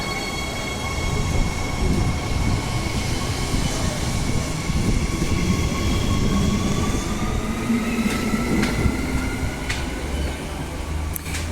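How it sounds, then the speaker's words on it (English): An airport passenger train bound for Claremont rolls past loudly with a heavy rumble, steady rail noise and high squealing tones from the wheels, with a few sharp clicks near the end. "And there goes this airport train to Claremont."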